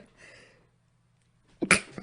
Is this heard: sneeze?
yes